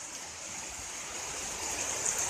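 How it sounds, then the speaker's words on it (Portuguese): Rainwater pours from a roof gutter at a rural farm, a steady, bright rushing splash that holds constant and grows slightly stronger toward the end. "A calha aí, como é que tá caindo a água aí, Beto, ó."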